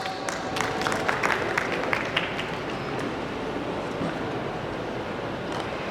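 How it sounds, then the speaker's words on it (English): Quiet applause from a teen debating audience, a dense, even patter of clapping that holds steady throughout, with a few sharper hand strikes standing out near the start. "give her a big round of applause"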